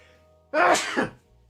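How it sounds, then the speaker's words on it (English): One sharp sneeze bursts out in a quiet room, loud and close, with a quick second push of breath before it fades back to near silence. "I'm getting a little sneeze attack"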